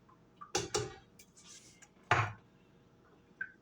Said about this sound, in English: So I'm just going to empty the can of carrots in there.